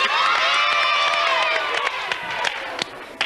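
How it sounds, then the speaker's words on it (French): A TV studio audience on a children's Disney show applauds and cheers, a loud crowd of clapping with shrill young voices and whistles that fades slightly toward the end. "On peut encore les applaudir."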